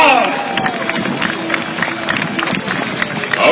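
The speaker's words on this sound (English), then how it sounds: "we all give them one more round of applause!" Outdoor crowd at an army open house defence display claps and cheers for a Leopard tank crew, a broad steady wash of applause with scattered shouts, fairly close, with a bit of voice mixed in.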